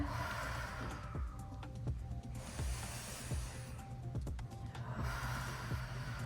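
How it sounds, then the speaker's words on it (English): Slow, audible breaths drawn in and let out close to the microphone, a few long hissing cycles with faint background tones. "Breathing, hear yourself breathe."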